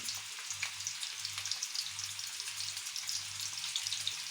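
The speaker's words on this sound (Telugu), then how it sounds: "మన పన్నీర్ పీసెస్ ఫ్రై అవుతున్నాయి" Paneer pieces frying in hot oil, giving a dense, continuous sizzle with fine crackling pops, steady and close, with no talking.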